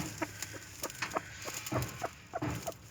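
A hen clucks repeatedly in short, irregular bursts at moderate distance, with a faint background hiss.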